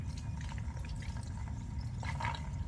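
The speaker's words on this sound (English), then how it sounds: "hear the jet kind of blasting away inside the pipe" Water jet from a hose-fed drain cleaning bladder roaring and rushing inside an enclosed drain pipe, a steady low rumble with occasional splashing surges.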